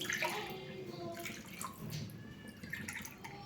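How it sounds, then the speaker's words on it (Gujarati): Water pours steadily into rice being cooked as jeera rice, nine cups over three cups of grain, a continuous close splashing rush that runs throughout. "રાઈસમાં પાણી એડ કરીશું"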